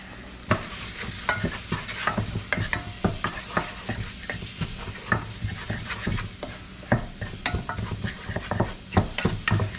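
Moroccan couscous ingredients sizzle and fry in a pan while being stirred steadily, with frequent scraping and clinking strokes over a continuous close hiss.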